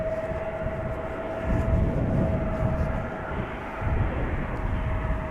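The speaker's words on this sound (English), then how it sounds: "this is KLM flight 1753 going to Bremen, Embraer 190" KLM Embraer 190 jet departing Amsterdam Schiphol, a steady broad engine roar with a constant high whine, swelling twice in loudness, heard alone without talk.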